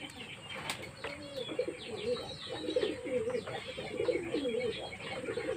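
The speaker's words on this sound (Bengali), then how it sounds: "দেখুন পায়রাগুলো খাচ্ছে, দেখুন।" Pigeons feeding close by, with repeated wing flaps and soft cooing over a quiet background, fairly faint throughout.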